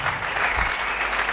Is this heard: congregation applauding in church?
yes